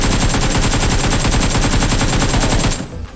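Sustained full-auto bursts from an AK rifle in PUBG Mobile, rapid evenly spaced shots loud and close, continuous for nearly three seconds before cutting off abruptly.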